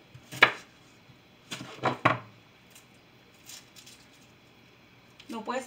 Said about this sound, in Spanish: Right now over here, we're gonna add some onion.